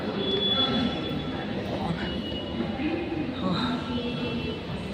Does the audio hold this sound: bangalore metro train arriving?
yes